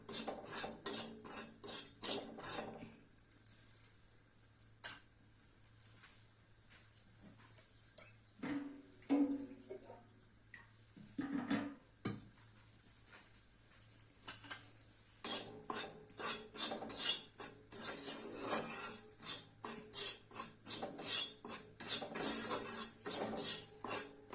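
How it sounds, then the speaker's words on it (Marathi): Steady scraping and clinking of a metal spatula against an iron pan while roasting sorghum flour to a reddish-brown colour, with rapid stirring strokes and brief pauses, no voices. "हे असं तांबूस रंगावर भाजून घ्यायचं ज्वारीचं पीठ बघा"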